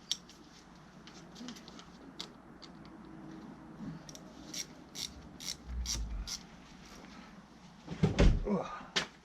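A hose clamp is tightened on an Audi A4 2.0 TDI 140 hp engine during reassembly, with a run of quick, close ratcheting clicks and small metallic knocks, ending in a louder clatter and a few scattered taps.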